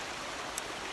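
River water flowing just below a dam releasing from a power station, a steady close rushing hiss with one brief splash or click partway through.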